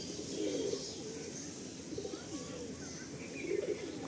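Several Madrasi pigeons coo softly in low, rolling murmurs that overlap steadily through the stretch, close by in a loft, with faint chirps above.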